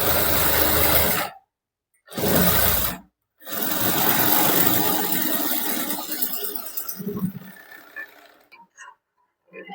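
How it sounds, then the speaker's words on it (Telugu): A sewing machine stitches a seam on a prince-cut blouse in three close, loud runs: two short bursts separated by brief pauses, then a longer continuous stretch that slows and fades into scattered light clicks. "ఒక పావు ఇంచుకి మరలా కుట్టు అన్నది వేస్తున్నాను."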